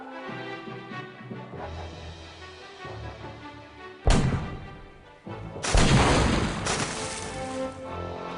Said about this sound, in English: I'd like to buy some cannons for my pirate ship.